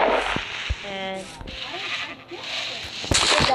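Sheep bleat in a video game, short harmonic bleats over a game background, with a person talking throughout.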